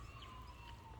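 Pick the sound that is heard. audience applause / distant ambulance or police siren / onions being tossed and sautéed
distant ambulance or police siren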